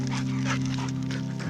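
A hound dog outdoors on a rock-hunting outing gives a sustained, fairly loud whining howl for over a second, steady throughout before trailing off.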